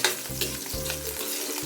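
Onions sautéing in a pan alongside pork, giving a soft continuous sizzle with a couple of low stirring thumps over a short stretch.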